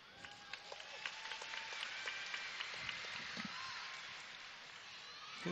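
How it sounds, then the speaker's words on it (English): Gymnastics arena crowd at a women's all-around competition applauding and cheering during an uneven bars routine, a faint steady wash of clapping with scattered sharper claps in the distance. "Spurred on by a very vociferous crowd."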